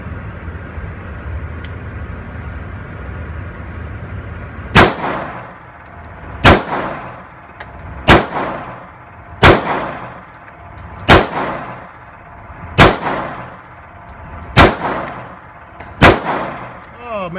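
Eight sharp, loud pistol shots ring out from a 9mm Springfield Range Officer loaded with a Wilson Combat magazine, fired at an even pace about one and a half seconds apart, each crack trailing off in a short metallic ring over faint background noise.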